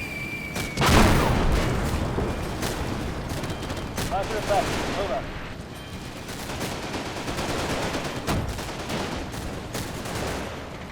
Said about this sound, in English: So my Churchill's still firing on the tank